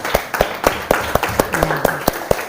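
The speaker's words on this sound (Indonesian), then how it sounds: "Tepuk tangan buat kita semua dulu" A class of students claps together at a school project session, about ten sharp, even claps in a steady rhythm, close and fairly loud.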